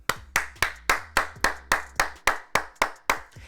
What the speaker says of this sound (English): You know I'm clapping for you right now.